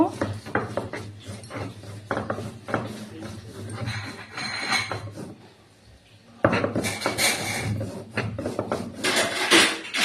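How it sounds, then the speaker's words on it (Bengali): Cumin, green chili and ginger are ground into a spice paste for pumpkin curry, heard as rhythmic rubbing and scraping strokes close by, pausing briefly midway before resuming more vigorously. "এবার একটু জিরে লঙ্কা আদা একটু বেটে নেব"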